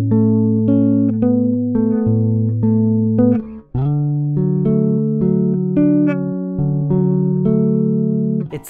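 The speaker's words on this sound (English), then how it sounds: "they sound obviously a lot thinner than the heavier gauge that I was playing before" A bass guitar strung with light gauge strings plays chordal, solo-style passages, sustained multi-note chords shifting every second or two, close and clear, with a brief dip midway and no talking.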